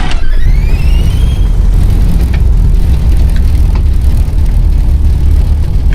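An A2A Mark I Spitfire engine cranks up in a flight simulator, opening with a brief rising whine before settling into a loud, steady, dense roar that holds without a break.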